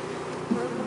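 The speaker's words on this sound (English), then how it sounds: "so I have a bunch of pissed off bees" Dense, agitated buzzing of many honey bees close by, a continuous droning hum.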